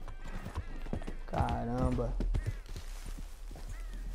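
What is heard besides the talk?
horse hooves in Red Dead Redemption 2 video game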